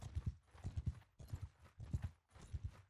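Horses gallop in the Mount & Blade 2: Bannerlord video game, their hooves pounding in quick rhythmic bursts of clip-clop that come in repeating waves, fairly faint and with no talk over them.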